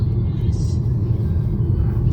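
A car driving on a road, heard from inside as a loud, steady low rumble of engine and tyres that carries on without a break.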